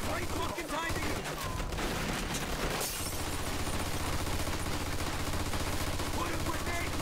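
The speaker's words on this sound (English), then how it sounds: "Looks like we found the machine gun." Machine gun fire in the video game Mafia II, rapid bursts of automatic gunfire filling the scene, loud and continuous with game sounds and voices over it.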